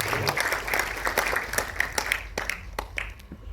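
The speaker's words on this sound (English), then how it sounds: "please round of applause for him" Audience applause at a conversation event, honoring His Holiness Jayapataka Swami: scattered, moderately quiet clapping from a crowd that continues steadily and thins toward the end.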